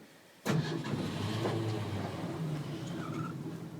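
A 1965 Ford F100 Ranger Custom Cab pickup's engine cranks and catches abruptly, then settles into a steady, close, moderately loud running rumble with no talk over it.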